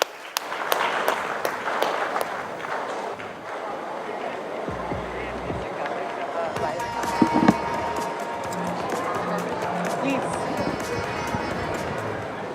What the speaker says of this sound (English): give both of the ladies a huge round of applause